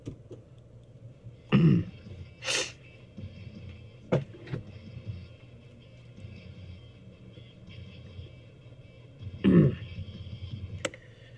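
A few scattered coughs and throat clearings, short bursts spread apart over a low, steady background hum, fairly faint and with no talking.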